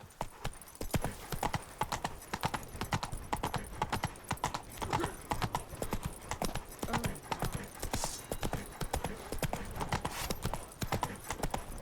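Roach the horse's hooves in The Witcher 3 clip-clop in a fast, continuous rhythm, close and loud, with a brief whinny and faint game ambience behind.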